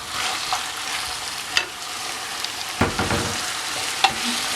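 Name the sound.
julienned leek frying and being stirred in a pan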